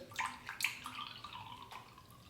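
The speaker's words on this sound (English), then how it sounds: "So let's pour some water in here." Water pours from a tap into a small container for soaking a shaving brush, a soft steady splashing and trickling with a few brighter spurts, faint and close, with no voices.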